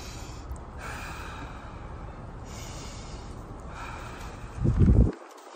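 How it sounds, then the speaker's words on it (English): Two deep breaths taken during a guided relaxation exercise, each a long, soft, airy rush of air, ending with a louder, closer snort-like exhale before silence. "Take two deep breaths."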